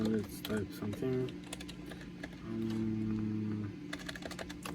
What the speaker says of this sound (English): Let's type something.